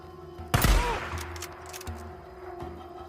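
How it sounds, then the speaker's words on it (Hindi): A single powerful rifle shot from the Days Gone video game, one sharp loud blast with a lingering echoing tail over a steady game background hum. "एक नया वेपन मिल गया है, राइफल। सिंगल शॉट है लेकिन तगड़ा है।"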